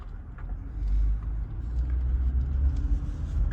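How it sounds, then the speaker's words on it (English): Low engine rumble and road noise from a car driving slowly forward across a large empty parking lot, steady and continuous with no talking. "I'm in a parking lot, great big empty parking lot. So I'm going to drive."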